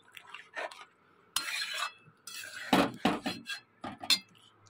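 Soybean curry stirred in a pot with hot water added, giving irregular metal scrapes and clinks of a spoon against the pot, in short bursts separated by brief pauses.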